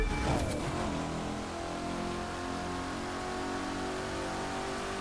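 Corvette engine in the racing video game The Crew 2, revving steadily and loud throughout, with a sustained mid-pitched drone and a brief rising surge near the start.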